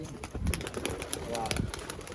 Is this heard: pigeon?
yes